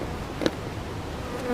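Honeybees hum steadily around a bee yard on a hot day, a soft continuous buzz with one brief closer pass of a bee.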